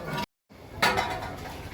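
Dishes, pots and pans being washed and scrubbed by hand, with brief clinks and clatter of metal and crockery that stop for a short moment and then resume, close by.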